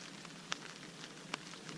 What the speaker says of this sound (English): It hadn't stopped raining since we got here.